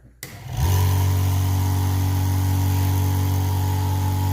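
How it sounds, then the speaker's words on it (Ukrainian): A Milka dry-type 1.1 kW milking machine for up to two cows clicks on and spins up to a steady, even motor hum. The hum holds constant and fairly quiet, with no talk over it. "Хочу продемонструвати роботу даного апарата. Вмикаємо."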